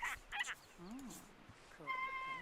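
A pet goose honks in a few nasal calls near the start and again at the end, with a person speaking softly in between.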